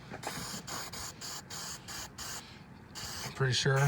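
Spray paint hisses in short repeated bursts over freshly welded tractor brackets, close and loud, while someone talks over it.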